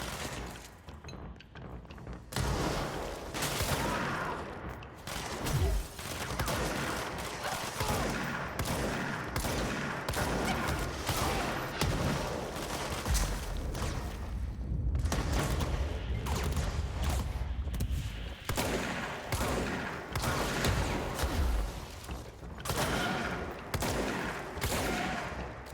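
Rapid gunfire from an odd spotlight-mounted gun in the game Control, with dense bursts of shots and booms filling the whole stretch, loud and continuous with brief lulls.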